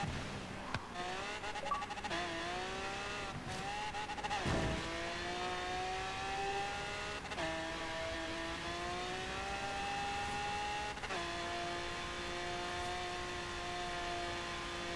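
Fast supercar in Forza Horizon 3 accelerating hard, engine pitch climbing and dropping through repeated gear shifts, loud and continuous with brief tire noise, no speech.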